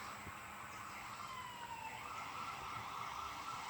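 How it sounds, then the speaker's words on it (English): Emergency vehicle sirens wailing faintly in the distance beyond a raised-bed garden, a thin rising and falling tone over steady outdoor background hum, no talking. "I'm hearing sirens."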